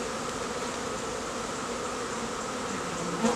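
Honeybees swarm around a hive during a rescue, giving a dense, steady drone of many wings that fills the air close by, constant and even throughout, with no talking.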